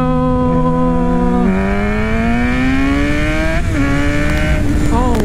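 A Kawasaki Ninja 636 motorcycle pulls hard in second gear, its loud, close engine note climbing steadily in pitch over several seconds before a brief dip and renewed rise, with no talking over it.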